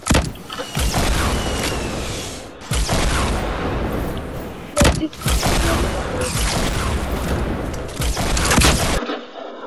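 Dense, loud gunfire from the Fortnite video game, with rapid bursts of shots and booms filling nearly the whole stretch and two brief gaps before an abrupt stop.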